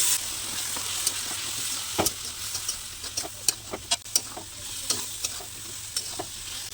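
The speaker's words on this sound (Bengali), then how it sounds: "মশলাগুলো আমার ভালো করে কষানো হয়ে গেছে।" Spice masala of chili, cumin and coriander powder with a little water fries for a pointed gourd and prawn dish, a steady close sizzle broken by repeated sharp spatula taps and scrapes.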